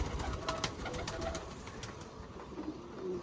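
Pigeons coo softly in the background while eating grain, over a low, steady ambient hum, with faint pecking and rustling.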